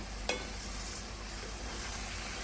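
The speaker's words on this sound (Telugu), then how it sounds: "ఇట్లా దోసకాయలు వేసుకొని మంచిగా ఇట్లా కలుపుకోవాలన్నమాట" Cucumber pieces tipped into a pan of fish curry and stirred, giving one brief clatter near the start, then a steady low sizzle and soft scraping under continuous hiss.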